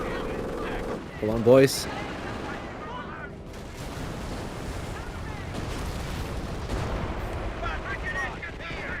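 Machine gun bursts and booming artillery fire in the video game Company of Heroes 2 play as a continuous battle din in the background, while players talk over it.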